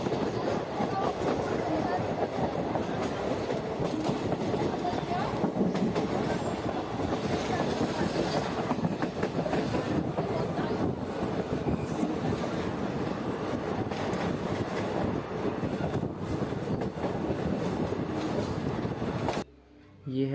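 Shramjeevi Superfast Express running at night with ICF coaches, a continuous loud rumble and rattle of wheels on rails heard from inside, steady throughout before cutting off abruptly near the end.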